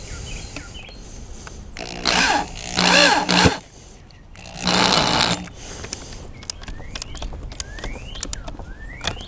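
Power drill driving bolts into skateboard hardware on a big board setup, with two sustained bursts of whirring that are loud and close, followed by scattered clicks and squeaks.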